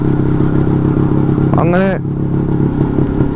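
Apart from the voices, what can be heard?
motorcycle riding through forest road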